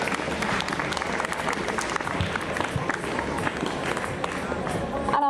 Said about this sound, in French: Une bonne main d'applaudissements pour le costume